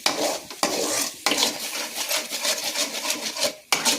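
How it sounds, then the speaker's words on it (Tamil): Steady sizzling and frying hiss of spices tempering in a pan, with a stirring, scraping texture, broken by a few brief pauses; loud and close, no talking. "இதை தாளிக்கிறது, தாளித்து எடுக்கிறது"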